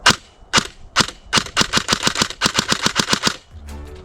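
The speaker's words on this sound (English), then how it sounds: "But shooting the gun again, just listen to how snappy this thing is." Airsoft M4 rifle firing BBs in a run of sharp, snappy single shots, about a dozen evenly spaced cracks that quicken toward the end, loud and close, followed by a brief low mechanical hum.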